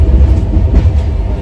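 A metro train runs on an elevated line, a loud close low rumble with rolling rail noise filling the short stretch without pause.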